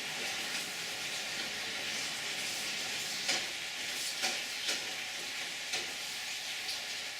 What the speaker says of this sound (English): From here, we start stirring with a spatula.